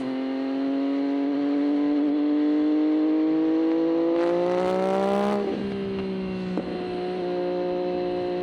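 A 2023 MV Agusta F3RR motorcycle engine under way, a loud smooth whine climbing steadily in pitch as it accelerates, then dropping sharply with a shift and settling into a lower steady drone.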